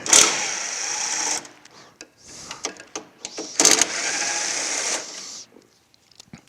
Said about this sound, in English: Let's take off the remaining 3 bolts that hold the DC to DC converter down.